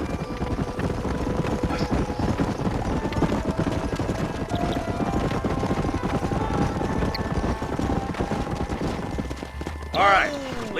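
Horse hooves clip-clop steadily in a cowboy video game, the rhythmic clatter running throughout alongside background game ambience, with people talking over it.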